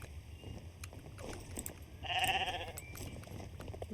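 A human voice imitating a sheep's bleat, one wavering nasal call mid-clip against a low background murmur.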